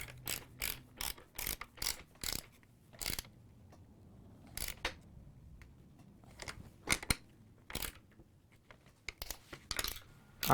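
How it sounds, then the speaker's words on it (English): Ratchet tightening bolts to lock a new sewing machine motor in place on its table, a series of sharp close clicks in short bursts with pauses between, quiet room otherwise. "I'm going to tighten all the bolts down to lock the motor in place"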